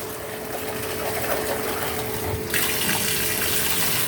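Tap water runs steadily into a tub while an American Pitbull Terrier gets a bath. The stream is close and constant, with the flow's tone shifting brighter partway through.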